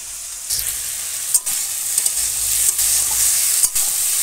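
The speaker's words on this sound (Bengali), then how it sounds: "তেলের পরে সরষে আর লঙ্কা দিয়ে দিয়েছি।" Mustard seeds and chilies fry in hot oil in a village kitchen pan, a steady close sizzle with crackling pops and occasional clinks of stirring.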